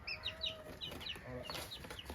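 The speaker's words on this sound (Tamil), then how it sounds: "கோழி பிடிக்கிறது சரிடா. இது வந்து வெள்ளை கோழியாக இருக்குது." White chickens cluck in repeated quick bursts at close range, with a few calls overlapping and a faint low rumble underneath, and no talking.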